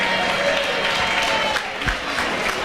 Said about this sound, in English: Love the cheering.